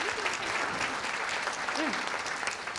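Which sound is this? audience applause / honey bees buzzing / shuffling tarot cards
audience applause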